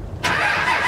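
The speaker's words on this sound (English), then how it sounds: "So we're gonna be starting up Mr. Clean here this morning." Cummins diesel truck engine being started on an icy, bitterly cold morning; after a brief quiet moment a loud broadband cranking roar abruptly kicks in and holds steady, close by.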